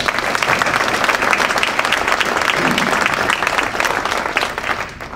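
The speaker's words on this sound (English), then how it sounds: "Let's give them a round of applause" A large audience at an agency's annual address gives a loud, sustained round of applause for honored volunteers, dense clapping holding steady before tapering off near the end.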